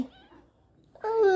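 A cat gives a short meow near the end, clear and fairly close, after a quiet stretch with only faint sounds.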